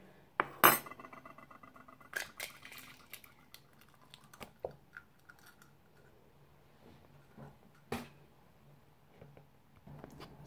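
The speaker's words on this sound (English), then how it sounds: "So beat the last egg until it is beaten." An egg being beaten by hand for chocolate Easter cake batter, with sharp clinks and taps of a utensil against a bowl, loud at first and then scattered, in a quiet kitchen.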